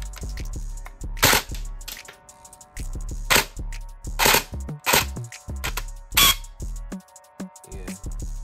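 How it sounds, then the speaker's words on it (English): An airsoft AEG with a heavy spring and too low a gear ratio fires and then locks up. It gives sharp, snappy cracks at irregular intervals, mixed with short mechanical clicks and whirs between shots, close and loud. "it get locked up inside because how strong the spring is"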